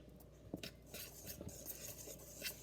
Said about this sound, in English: once you add the flour in the bowl, you are just going to lightly whisk it